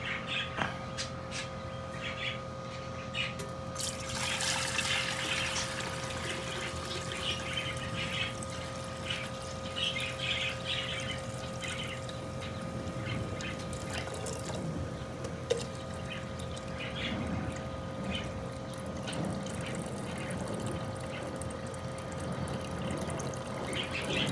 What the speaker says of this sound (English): we're gonna pour this electrolyte off